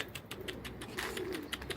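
Pigeons coo in a soft, repeated pulsing rhythm, several close calls overlapping at a low level, with faint background stirring.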